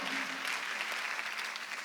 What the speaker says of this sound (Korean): 박수치라 이게요.